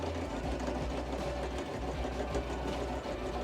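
Milling machine climb cutting high speed steel for a Classic Mini flywheel and clutch modification, a steady continuous mechanical hum with low engine-like drone and grinding texture throughout, no voices.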